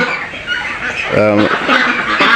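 Large ducks quack nearby, with one clear nasal call standing out against softer clucking and background noise.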